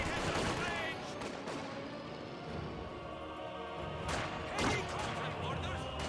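An MG42 machine gun fires in the World War II strategy game Company of Heroes 2, with sharp bursts of gunfire and crashing impacts over a busy battle din, at moderate loudness.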